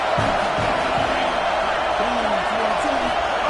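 A football stadium crowd roars steadily during a game, a broad, constant wash of cheering with a commentator talking over it.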